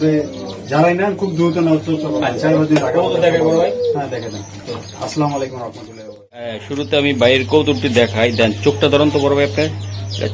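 Pigeons coo in a pigeon seller's loft, their soft calls mostly buried under steady close talk and a low electrical hum.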